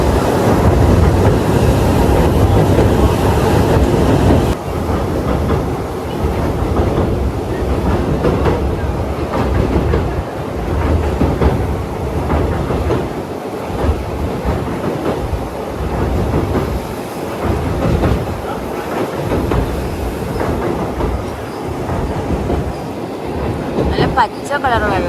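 A train runs on rails on the approach to Pamban bridge at Rameswaram, its steady rumble and clatter continuous and close throughout, with a slight shift in tone partway through.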